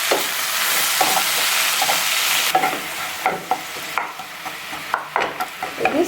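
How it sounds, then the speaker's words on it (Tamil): Jaggery and water heating in a pan give off a steady sizzling hiss, joined by close, repeated stirring scrapes and clinks that grow more frequent toward the end, with no one talking. "இந்த வெல்லத்துக்கு தேவையான தண்ணி மட்டும் விட்டுட்டு நல்லா கொதிக்க வச்சுக்கலாம்"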